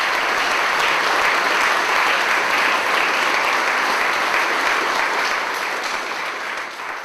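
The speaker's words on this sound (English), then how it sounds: "let's have a round of applause for Jonathan Wilson," Dense, sustained audience applause fills a Q&A event hall for three panel speakers, steady and loud throughout, then tapering slightly at the very end.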